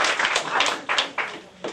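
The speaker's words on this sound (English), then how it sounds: "Give him a round of applause." Short bursts of audience clapping ring out at a boxing hall of fame class announcement, uneven and brief, with a few sharper claps standing out.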